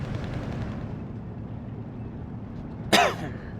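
Mortar rounds fire in a wartime strategy game set in World War II, with one sharp report rising above a steady low rumble of battle noise and then decaying.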